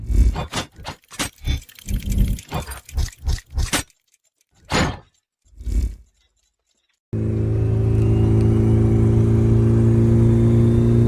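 A Honda CRX running high turbo boost drones steadily from inside the cabin, a loud sustained engine hum that starts abruptly after several seconds of separate bursts of sound and silence.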